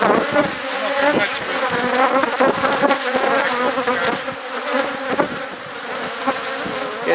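Bees swarm around beehives in Alentejo, Portugal, a dense, loud, continuous buzzing close by with individual insects droning past.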